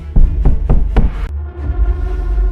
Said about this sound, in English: I was jolted awake by a frantic pounding at the door